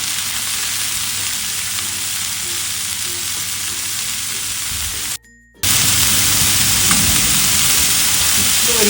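Chopped broccoli sautéing in oil in a pan over a medium flame: a loud, steady hiss and sizzle that drops out briefly and then resumes at full strength.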